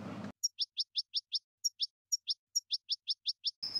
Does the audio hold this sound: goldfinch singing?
yes